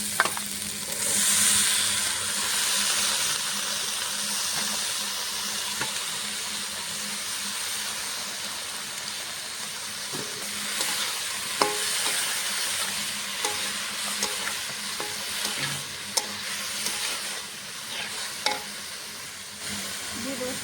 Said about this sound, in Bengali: এখন কেটে ধুয়ে রাখা সবজিগুলো দিয়ে দেবো।